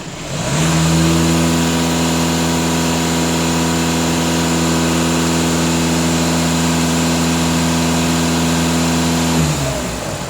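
A warmed-up Volkswagen Passat B8 diesel engine idles steadily with a deep, even, close-up droning hum that holds for about nine seconds before fading out, with no talking.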